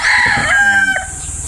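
A Sota battle stag gamefowl rooster crows once up close, a loud, drawn-out call that rises and falls with no talking around it.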